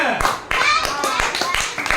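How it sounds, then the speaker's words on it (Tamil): A church congregation applauds in quick, sharp claps, a brief burst of steady clapping close and loud with a few voices mixed in. "ஏசப்பாவுக்கு நன்றி சொன்னான் ஜோர கைதட்டுங்க"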